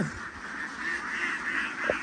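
Ducks delivered to a farm in Pang Makha, Khanu, Kamphaeng Phet, Thailand, quacking and honking as a dense, continuous flock chorus with one sharper call near the end.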